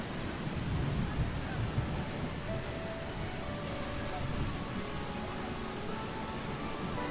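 Steady rain falling in the video game Eastshade, a dense, even hiss that continues unbroken throughout with faint low rumbling underneath.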